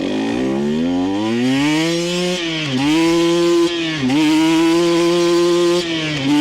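A Thunderwasp XR16 motorcycle pulls away from a start in second gear, its engine loud and close, rising in pitch with brief dips at each shift, with no talking.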